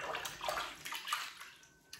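Water splashes and sloshes in a child's bubble bath, soft irregular splashes and gurgles close by, moderately quiet with a brief sharper splash near the end.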